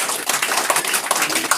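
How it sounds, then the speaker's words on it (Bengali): Audience clapping at a training session, a dense patter of many hands filling the room, fairly loud and steady for a short burst with no talk over it. "আপনি বসে নেওয়ার জন্য একটা হাততালি হবে।"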